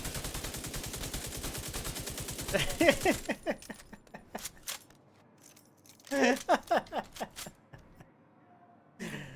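Rapid automatic gunfire rattles in The Division 2 on PC, a fast steady stream of shots that cuts off, followed by sharp separate bursts and single cracks.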